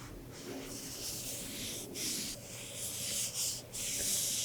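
A glass orb rubbed slowly along a body in an ASMR energy session, a close, continuous soft swishing and brushing texture with brief pauses between strokes.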